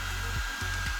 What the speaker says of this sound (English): It has built-in cooling fans, one intake and one exhaust to keep the heat sink and control board cool.